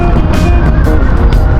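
Road traffic rumbles close and loud, with trucks passing along a road and a few brief hissing whooshes standing out over the constant low engine drone.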